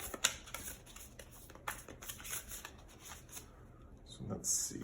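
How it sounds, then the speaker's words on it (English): Oracle cards riffled in a quick shuffle, soft dense papery flutters and taps close by, fairly quiet, ending in a brief rustle. "I feel like doing a quick shuffle with these cards."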